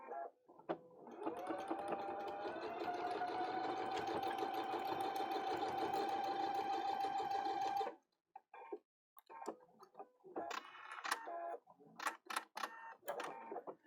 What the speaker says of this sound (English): now I go back to the machine, put right sides together, do a 1/4 inch seam, and finish my loop